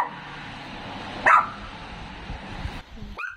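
Abandoned dogs and puppies left out on the street, with one short bark standing out briefly against steady outdoor background noise.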